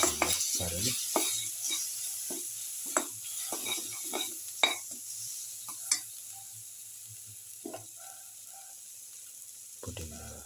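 Food in a pan is mixed after salt goes in, for a pepper lamb ribs and potato noodle dish, with repeated scraping and clinking stirs in irregular bursts over a low sizzle, close and with no speech.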